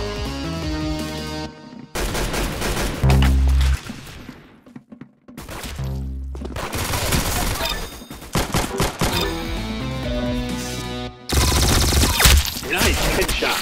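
Gunfire in the video game Roblox Arsenal, loud close bursts of shots broken by short gaps, heard over game music and sound effects.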